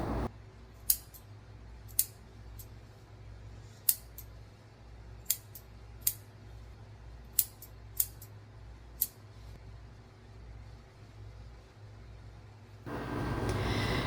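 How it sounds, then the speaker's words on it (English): Small grooming scissors make a run of crisp, isolated snips on a senior Yorkshire terrier's facial hair near the eyes, each cut quiet and close with gaps between them, ending in a brief rustle. "I'm combing all his hair forward and trimming his eyes."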